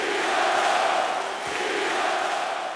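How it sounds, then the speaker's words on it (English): Basketball arena crowd in Toronto chanting "We the North", a dense, loud roar of massed voices that swells and dips slightly across a few seconds. "the crowd is, you know, chanting "We the North""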